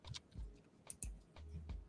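A handful of faint computer keyboard keystrokes click irregularly at close range, quiet and sparse, with short pauses between presses.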